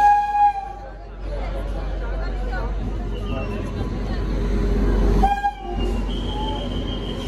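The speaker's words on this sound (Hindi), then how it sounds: "तो ट्रेन आने वाली है" A train pulls into a railway station, its horn sounding over a loud rumble of wheels and cars while a murmur of voices from the platform crowd carries beneath.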